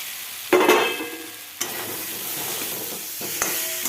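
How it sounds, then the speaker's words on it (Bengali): Fried potatoes tipped into a hot pan and stirred while making Mughlai paratha, giving a loud sizzling burst followed by steady frying hiss with a few scraping stirs. "এবার ভেজে রাখা আলুগুলো দিয়ে দেবো ভেজে রাখা আলুগুলো দিয়ে দিলাম"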